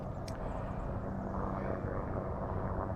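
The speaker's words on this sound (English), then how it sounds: "Helicopter somewhere." A helicopter passes somewhere overhead during a hike to the Mt Hope lookout, giving a steady, fairly faint rotor drone. It sits beneath broadband outdoor rumble and carries on without a break for the whole stretch.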